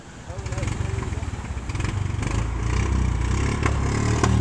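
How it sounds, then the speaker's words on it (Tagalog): Steady drone of a newly repaired boat engine running nearby with a rhythmic mechanical chug and some clatter, continuous throughout. "So ayan si Idol Gutoy, nagpatisting sa kanya makina."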